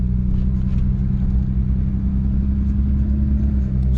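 A 2007.5 Cummins diesel truck with a gearbox brace drives along, its engine giving a steady, loud low rumble that fills the whole stretch with no voices.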